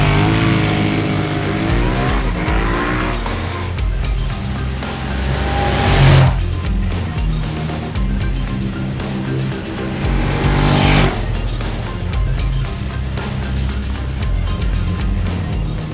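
Ducati Diavel motorcycle launching off the line and accelerating hard, loud engine revs climbing in rising sweeps with gear changes, up close and dominant, alone without talk.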